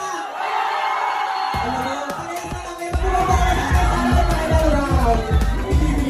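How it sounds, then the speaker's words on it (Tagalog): A lively crowd at a drag bar in Timog, Quezon City shouts, whoops and cheers, with bursts of clapping joining in about halfway through and continuing loudly to the end. "So dito sa Andragis, palakasan ng sigawan at palakpakan"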